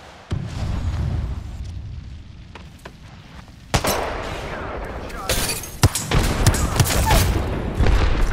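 A grenade going off in the shooter game Apex Legends, a sudden heavy boom followed by rumbling blasts and scattered gunfire, loud and close amid ongoing battle noise.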